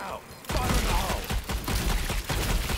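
Rapid gunfire in the video game Strange Brigade, a dense burst of shots that starts abruptly after a brief quiet moment and keeps going loudly with uneven, clustered bangs.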